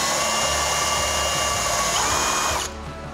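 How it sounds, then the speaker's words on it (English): Power drill boring insert holes into a homemade snowboard, a loud steady high whine held close for nearly three seconds before cutting off abruptly. "Now let's drill the inserts."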